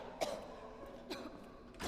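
A woman coughs in the Resident Evil 2 video game, with three faint, separate coughs spread evenly apart, quiet against a low game background hum.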